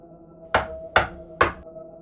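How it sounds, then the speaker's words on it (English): Three evenly spaced, solid knocks on a door, close and resonant, each ringing briefly before the next, in a horror story sound effect. "There was knocking at the door."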